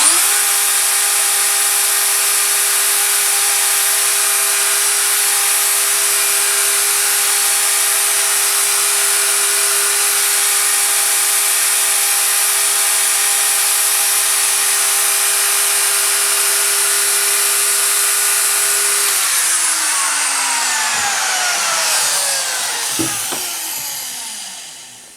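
A wood router cuts steadily around a medallion template, a loud continuous high whine holding for about twenty seconds, then spinning down as the motor is switched off.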